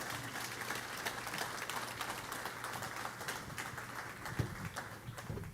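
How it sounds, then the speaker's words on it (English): Light, scattered applause at a church gathering, faint and somewhat distant, rippling steadily for several seconds over a low background hum. "let's give Christine a round of applause"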